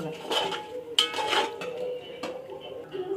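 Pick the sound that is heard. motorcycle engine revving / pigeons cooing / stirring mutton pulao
stirring mutton pulao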